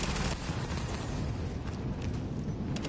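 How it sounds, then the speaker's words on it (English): Explosions in the video game The Division, a dense continuous rumble of blasts and booms filling a few seconds, loud and without talk. "So many explosions."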